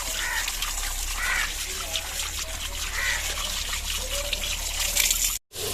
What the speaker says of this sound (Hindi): अच्छी तरह इनको धोएंगे, आलू को और जो प्याज है इनको भी धोएंगे